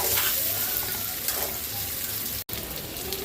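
Boiled pasta fries in hot oil, giving a loud, steady sizzle with a few stirring scrapes and a very short gap near the end. No one speaks.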